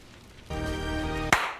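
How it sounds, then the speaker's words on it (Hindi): One sharp, close transition clap of the hands lands right after a sustained humming tone cuts off. "इसलिए ट्रांजिशन वाली ताली बजा देते हैं"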